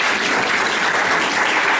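Audience applause at an academic conference, a dense, steady wash of many hands clapping loudly and continuously throughout, with no voices over it.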